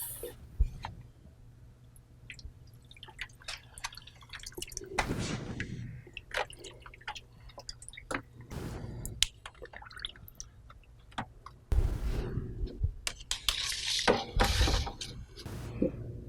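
Electronic air cleaner collector cells and pre-filters lowered into a tub of soapy water, with scattered drips, splashes and sloshing bursts, some louder stretches of liquid movement, no talking.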